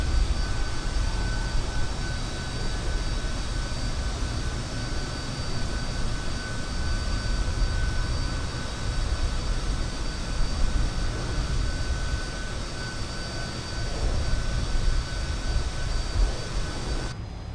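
Steady jet engine drone from a Fokker F28 airliner in Microsoft Flight Simulator, a continuous roar with a faint high whine that holds evenly throughout and cuts out abruptly at the very end.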